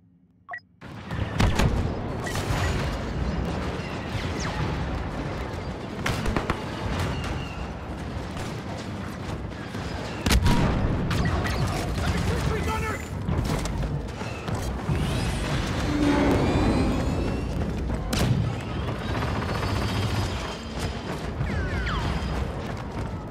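Heavy artillery fire in a Star Wars Battlefront battle on Crait pounds continuously, with repeated booms and blasts layered over a dense, loud roar of combat and mechanical noise.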